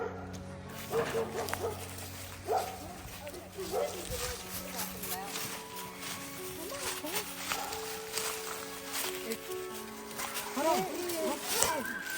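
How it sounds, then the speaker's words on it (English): A dog named Rose barks and whimpers nearby with yips and whines scattered through the stretch, mixed with footsteps and people talking. "that dog over there is Rose"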